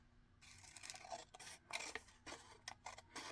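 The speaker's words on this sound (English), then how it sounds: "I'm going to snip off a little bit of it" Scissors snip through a small piece of paper in a run of short, crisp cuts, a few quick snips clustered together, quiet and close in a still room.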